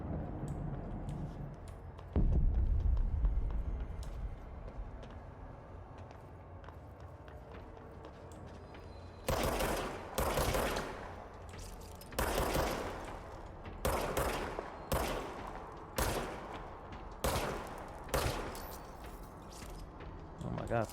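Bursts of gunfire from the video game Control come in a rapid series of sharp, loud broadband volleys spaced about a second apart, following a quieter stretch of low rumbling game ambience.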